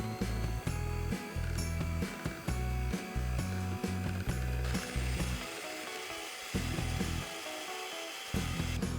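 An electric blender whips cream for an eggless coffee mocha cake, its motor running loud and close in repeated bursts broken by short pauses, with no talk.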